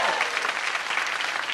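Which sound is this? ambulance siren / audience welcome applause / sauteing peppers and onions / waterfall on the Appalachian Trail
audience welcome applause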